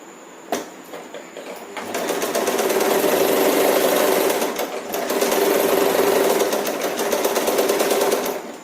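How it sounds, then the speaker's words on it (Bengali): A sewing machine stitches along the edge of the lining fabric while piping is attached to sleeves, its motor whirring loudly and rapidly in two long runs with a short pause between, close up and without talk. "লাইলিন কাপড়ের ধার বরাবর আমরা সেলাই করে নেব"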